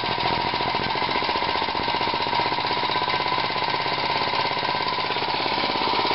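A loaded vortex machine's motor runs with a fast, steady, jackhammer-like rattle, loud and unbroken, with no other sounds.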